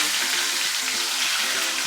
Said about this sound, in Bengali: এবার আমরা মাছ ভাজা তেলেই আলু ভেজে নিচ্ছি।